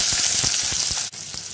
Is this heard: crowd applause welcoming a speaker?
no